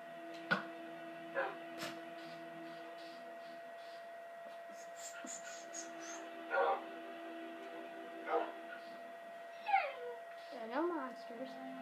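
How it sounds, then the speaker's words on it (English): A Minecraft dog gives short barks and whimpers at scattered moments, a few sharp yelps followed by whiny sounds, over a quiet game background with occasional talk. "it's a dog."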